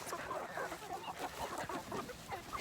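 Several chickens cluck and murmur continuously close by, a busy overlapping chatter of a flock with no pauses.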